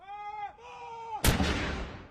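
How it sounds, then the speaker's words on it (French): A cannon salute fired across the United Kingdom in honour of the new sovereign: a held tonal note gives way to a single sharp, loud boom that rolls out and slowly decays. "des coups de canon ont été tirés dans tout le Royaume-Uni en l'honneur du nouveau souverain"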